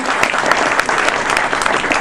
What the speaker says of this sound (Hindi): जोरदार तालियों से आप लोग स्वागत करें।